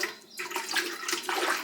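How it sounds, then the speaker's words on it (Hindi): Water is poured into a milk bucket to rinse out the leftover milk, then tipped into a cooking pot, giving a close, steady splashing gush of liquid with no talking. "ये मैंने पानी ले लिया है और अब मैं इस बाल्टी के दूध को इससे धोकर इस भगोने में ही डाल देती हूँ।"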